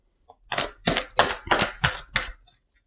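Tarot cards being shuffled by hand, six quick riffling bursts in a steady rhythm, crisp and close in a quiet room, with no talking.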